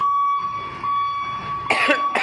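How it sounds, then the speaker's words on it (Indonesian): A steady high beeping tone runs throughout, then a single short cough bursts out near the end. "Aduh, batuk ya guys."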